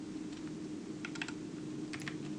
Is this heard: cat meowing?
no